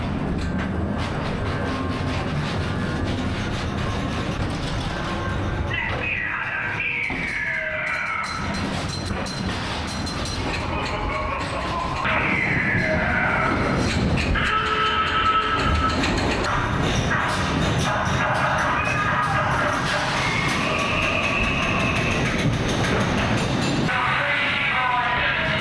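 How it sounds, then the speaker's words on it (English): A ghost train ride at the Black Country Living Museum rumbles and clatters along its track, with steady mechanical noise, squeals and thumps layered with jangling sound effects throughout. "We gave the ghost train a go"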